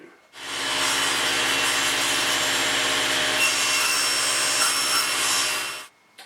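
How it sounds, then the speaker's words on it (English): A saw cuts through a board on a rough crosscut sled, a steady, close rasping whir that starts abruptly, holds evenly for several seconds and then stops, with no speech. "We're going to cut right down this line, not wasting any more than we absolutely have to."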